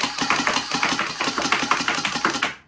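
An AR-style gel blaster toy gun fires a rapid continuous burst of about a dozen whirring, snapping shots in quick even rhythm, loud and close, before the motor spins down and stops.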